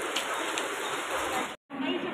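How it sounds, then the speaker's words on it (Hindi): Dense, steady hiss of heavy monsoon rain in Mumbai pours down continuously, briefly cutting out near the end before resuming. "बहुत बारिश हो रही है"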